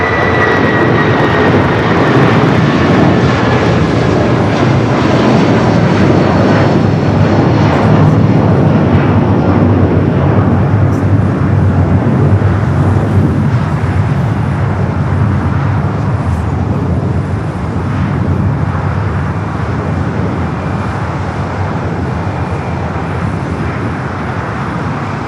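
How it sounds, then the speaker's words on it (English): A United Boeing 757-300 bound for Chicago takes off from runway 25 Right at LAX, its engines a loud, sustained roar that stays powerful throughout and eases only slightly toward the end. "Next takeoff is a flight to Chicago here, 757-300, United flight 457."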